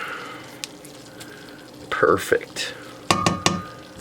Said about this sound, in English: I'm going to whisk this in really quick.